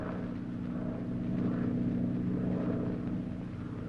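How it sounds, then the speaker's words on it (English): A propeller airplane engine drones steadily at a moderate distance, its low hum swelling slightly midway and then easing, with no talk over it. "That plane is to pick you up."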